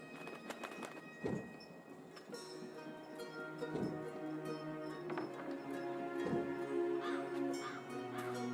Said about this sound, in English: That God's damn talking bird!